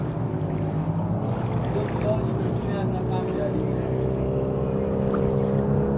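Motorboats on the water at Khanpur Dam, a reservoir ringed by hills, give a steady low engine drone with light wind noise throughout.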